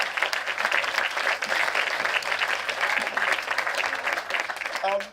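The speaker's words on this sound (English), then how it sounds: "So let's give him a round of applause, ladies and gentlemen." Audience applause at a lecture-style talk: a continuous wash of clapping from many people, fairly loud and even for the whole stretch, with some voices mixed into the crowd noise.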